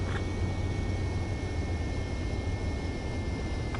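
Aircraft engine drone from a fixed-wing jet on approach to a runway in the video game Ace Combat 7, a steady, fairly faint roar that holds even throughout with no voices.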